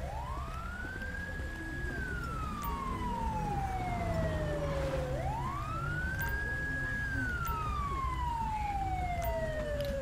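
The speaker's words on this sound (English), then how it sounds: "Still using the Federal Signal Delta siren." Federal Signal Delta police siren in the game GTA V wailing in two long rising-and-falling sweeps, loud and continuous over road and engine rumble.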